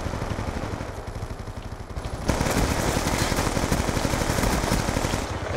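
Rapid, sustained automatic fire from a PDW submachine gun in Call of Duty Black Ops 2, a steady close rattle that grows louder and denser partway through with no pauses.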